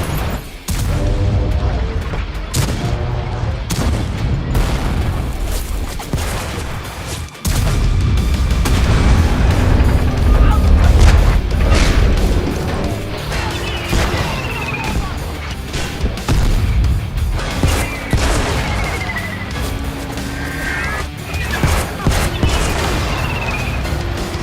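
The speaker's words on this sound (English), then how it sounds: "The sounds of echoing rounds from across the valley begin to be heard, smashing into the plague tanks all around them" Tank cannon rounds in the World of Tanks Blitz video game, with repeated loud booming shots and crashing impacts echoing across a valley, dense and continuous, mixed with other battle noise.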